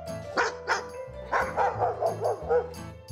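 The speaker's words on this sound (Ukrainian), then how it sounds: "Появі нашої знімальної групи, схоже, радіють лише місцеві собаки" Local village dogs bark in a quick run of about eight close, loud yaps and woofs, some higher and yipping, with a steady hum behind them.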